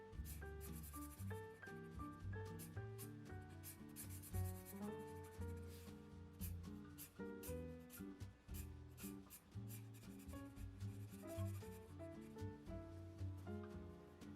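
A marker rubs steadily across paper as keys on a cartoon dinosaur-piano character are filled in black, a continuous scratchy coloring sound under tonal background music, with no talk.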